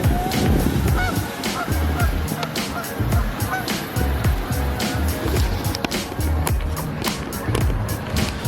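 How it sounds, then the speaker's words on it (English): Geese and ducks call repeatedly over a steady outdoor rumble of running water and passing traffic in San Antonio, with the honking fairly close and overlapping. "Ducks and geese are all out here."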